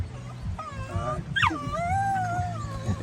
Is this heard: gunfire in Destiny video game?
no